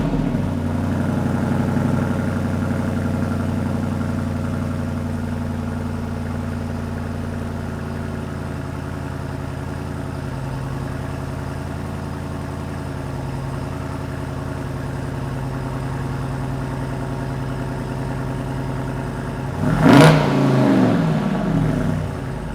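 A 2026 Jeep Wrangler 392 MOAB with a V8 engine rumbles at a steady, deep idle for a long stretch, then gives a short, sharp burst of revving near the end, with no voices.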